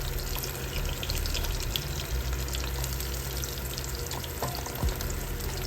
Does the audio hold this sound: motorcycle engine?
no